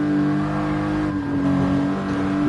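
A car engine in a Supra versus GT-R racing video game, with worn tires and a damaged engine, holds a steady, loud droning pull at high revs, unbroken and with no voices.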